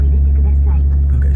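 A 1998 Nissan Skyline R34 25GTT idles on a cold start, a loud, steady low engine drone running throughout, with a voice talking over it.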